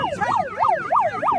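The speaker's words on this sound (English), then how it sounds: "puts a siren that is coming through a bullhorn right into a guy's ear" Siren blared through a bullhorn at close range, a loud wailing tone sweeping up and down in regular cycles about three times a second, with no voices.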